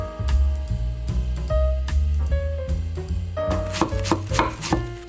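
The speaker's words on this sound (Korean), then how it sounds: "양배추를 가늘게 채 썰어 주세요." A knife finely shredding cabbage on a cutting board, a quick run of close, crisp chopping taps in a steady rhythm that speeds up toward the end, with no talking.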